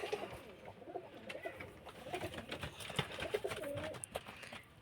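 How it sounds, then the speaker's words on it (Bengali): Andara pigeons coo in a home loft, soft rolling calls repeating close by with little else around them. "আপনাদের আন্দারা পায়রা সেট দেখুন।"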